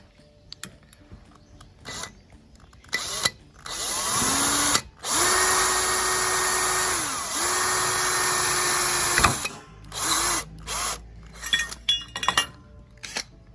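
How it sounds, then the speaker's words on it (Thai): A Total TIDLI20031 cordless impact drill whirs up and hammers rapidly in a sustained burst, drives a screw into steel, then gives a few short trailing pulses. "เจาะเหล็กเข้านะครับ ขันสกูขันสกูใส่เหล็ก"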